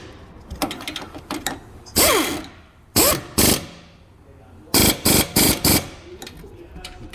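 Impact wrench or power tool bursts tightening the brake caliper bracket bolts on an Infiniti Q50, several short loud whirring bursts in quick succession with pauses between them.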